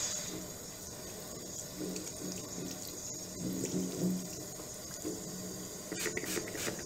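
Running water from a sink tap splashes steadily over a large fluffy makeup brush as it is rinsed, a continuous close hiss with slight shifts as the brush moves under the stream.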